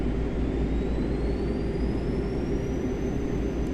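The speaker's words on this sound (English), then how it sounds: "let's spool up engine number 2" A simulated iniBuilds A330-200 jet engine spools up in a flight simulator, a steady, loud low roar and whir with a faint rising whine throughout.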